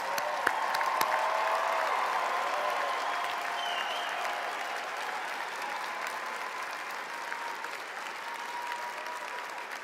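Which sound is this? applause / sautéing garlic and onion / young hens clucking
applause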